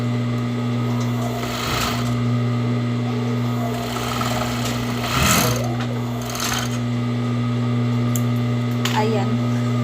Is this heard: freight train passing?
no